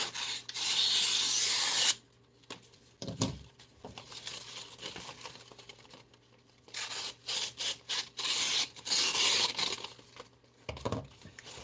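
A sharp knife pushed straight down through material without any sawing, giving loud rubbing, rasping cuts in two bursts separated by quieter crinkling and shuffling handling noise.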